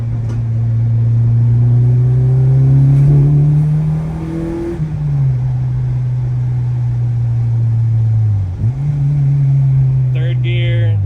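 An Acura RSX Type S with a 3-inch exhaust pulls hard from inside the cabin, its loud droning engine note rising, dropping at a shift, then climbing again, with a brief clatter near the end.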